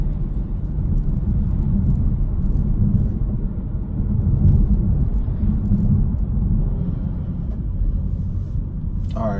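A BMW 435 fitted with a CTS turbo intake pulls hard, a continuous deep engine rumble and road noise heard from inside the car, loud and steady without letup.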